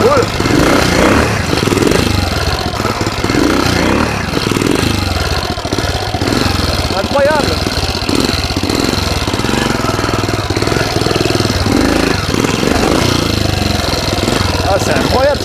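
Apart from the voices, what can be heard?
Tobec motorcycle engine running while riding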